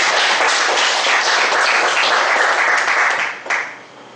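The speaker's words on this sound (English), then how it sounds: "Please give a round of applause to them." Applause for newcomers at a speakers forum rolls steadily from a room of clappers for about three and a half seconds, then fades out with one last louder clap.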